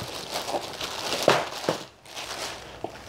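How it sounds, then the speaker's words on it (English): A piece of hickory wood being wrapped in plastic, with close, fairly quiet crinkling and crackling in uneven bursts and a short pause partway through. "Let's go ahead and wrap it in plastic."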